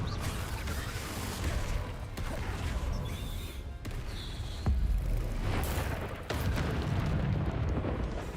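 Booming blasts from the Confringo fire spell in the Hogwarts Legacy video game, heavy low rumbling explosions with several sharp cracks and crashes over about eight seconds, loud and continuous with no clear pauses.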